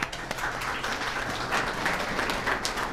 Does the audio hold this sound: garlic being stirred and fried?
no